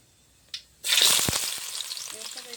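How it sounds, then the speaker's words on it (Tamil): Onions dropped into a pan of hot oil while a duck curry is being cooked burst into a sudden loud sizzle that keeps hissing steadily right up close. "இப்போ வந்து வெங்காயத்தை போட்டுங்க."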